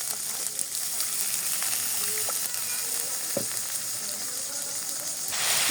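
A chickpea curry cooks in a pan, a steady loud hiss and sizzle with a few faint clicks, swelling briefly near the end as water meets the hot masala; no voices are heard.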